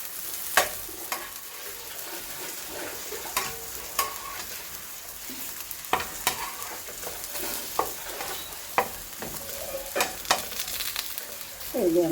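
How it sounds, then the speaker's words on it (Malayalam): Eggplant pieces sizzle and fry in hot oil in a pan while being stirred, with a steady crackle under repeated sharp scraping clicks of the spoon, close and moderately loud, with no talking. "വഴുതനങ്ങയെല്ലാം എണ്ണയിലിട്ട് വാട്ടിയെടുത്തിട്ടുണ്ട്"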